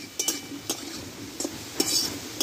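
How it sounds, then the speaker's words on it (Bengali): Potatoes and pointed gourd being stir-fried in oil in a pan: a soft sizzle under several light scraping and clinking strokes of a spatula, close and moderately quiet. "এই আলুর সঙ্গে কিন্তু এবার একসঙ্গে ভালোভাবে কষিয়ে নেব"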